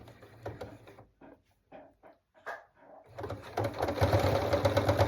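Sewing machine stitching a heart-shaped fabric piece in place, a few soft taps and handling noises before the motor starts up into a fast, steady rattle of needle strokes, close and clear.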